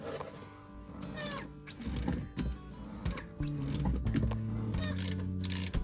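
A wrench works at a tight brake bleeder screw during a brake line job. Close metallic clicks, creaks and ratcheting sounds come in uneven bursts, with scraping in between.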